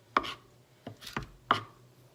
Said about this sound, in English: chop it as much as you can